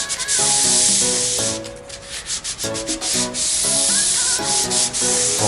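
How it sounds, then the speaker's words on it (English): Light hand sanding of a wooden entry door, loud close rhythmic scratchy strokes back and forth along the timber grain, continuous with brief pauses between passes. "Just a light sand, then you check."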